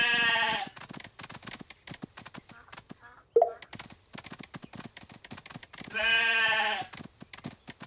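Sheep bleating in the Paw Patrol Academy video game: two loud wavering bleats, one at the start and one near the end, separated by a run of quick hoof-like clip-clops and a single sharp tone.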